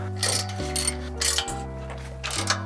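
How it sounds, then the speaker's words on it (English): Ratchet wrench cracking loose bolts on a Toyota FJ Cruiser Trail Teams with the winch disconnected, giving several bursts of clicking and metallic ratcheting at close range, separated by short pauses, with an engine-like hum steady underneath. "So all I'm doing right now is just cracking everything loose so nothing falls on me."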